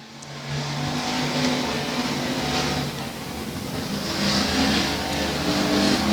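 Factory stock race cars in a four-car heat race at Rose Bowl Speedway, engines droning and revving steadily as they lap the short track, the roar swelling and easing at a moderate distance, no talking.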